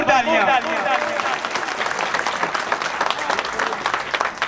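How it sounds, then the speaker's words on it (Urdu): Audience at a reception welcoming election panel candidates breaks into loud, sustained applause, a dense clatter of many hands, with a voice briefly audible at the start. "جناب ان کے لیے بھرپور تالیاں"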